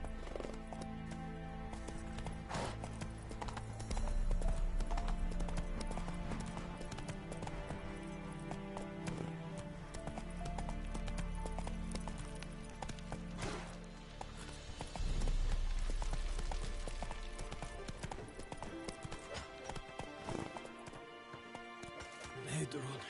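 Horse hooves galloping in The Witcher 3 video game, a fast rhythmic clip-clop that keeps going beneath game music and other sounds, swelling loudest in two bursts.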